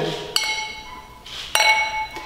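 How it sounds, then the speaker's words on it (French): Wine glasses clink together in a toast, two bright ringing chimes about a second apart, each leaving a short shimmering tail over a quiet background. "on va trinquer"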